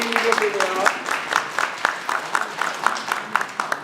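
An audience at an outdoor fig tree planting event claps in a steady, rhythmic unison beat of about two claps per second, with a voice talking briefly at the start.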